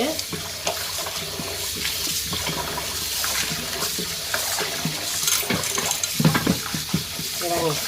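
Tap water runs steadily into a sink as fish are washed for a second rinse, with clattering and splashing of hands and fish in the water, close and continuous.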